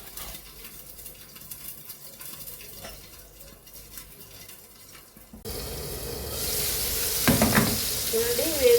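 Ingredients for a Bengali tomato chutney fry in a pan, a faint crackle at first that jumps to a louder, steady sizzle with stirring scrapes, close and without talk.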